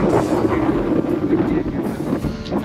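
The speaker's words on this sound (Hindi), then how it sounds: "बहुत तेज हवा चल रही है और बहुत ठंडी हवा चल रही है" Strong, cold mountain wind blows at a castle restaurant near Manali, roaring as a steady, dense rush right against the microphone for the whole moment, with small gusty swells and no clear talk.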